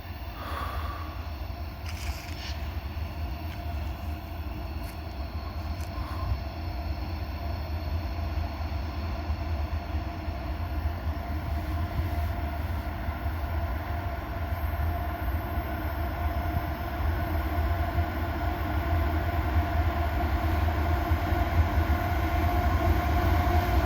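A coal train rolls steadily past, a continuous loud rumble with rail screech and rattle that holds for the whole stretch, no voices.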